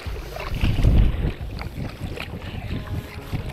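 Gusty wind buffeting the microphone outdoors on an open lake while rafting with a tailwind over waves, with low rumbling and soft splashing, strongest near the start then steadier.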